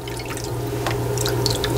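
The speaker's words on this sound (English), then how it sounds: "I'm going to wash them do a couple of washings on them." Water splashes and drips as freshly gathered palm dates are washed in a container, a soft, continuous wash with small sloshes close by.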